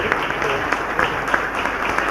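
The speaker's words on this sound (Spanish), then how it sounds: "Un fuerte aplauso pues para este hermano." Steady applause fills a church gathering in thanks for a visiting brother, a dense, even crowd clapping heard at moderate distance, with faint voices underneath.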